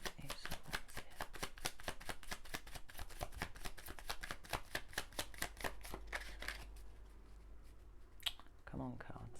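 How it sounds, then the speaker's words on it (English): Tarot cards shuffled in quick, rapid riffles for several seconds, close and crisp, then a few soft card handling sounds as one is pulled, with a voice speaking near the end. "I'm going to pull another card because I'm not quite sure which way round it is."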